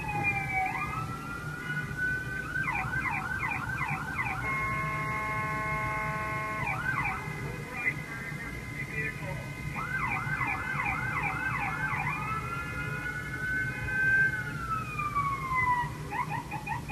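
An ambulance siren cycles through rising and falling wails and rapid yelping bursts, moderately loud and steady over background traffic rumble, with no voices.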